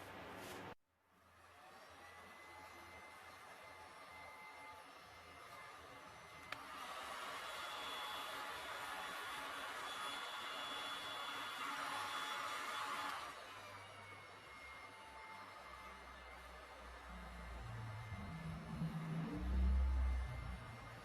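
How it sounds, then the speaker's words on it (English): Heat gun blowing hot air over a freshly poured resin art layer, a steady broadband hiss that holds for several seconds, then cuts off leaving quieter handling sounds and a low bump near the end. "let's blow it with a heat gun"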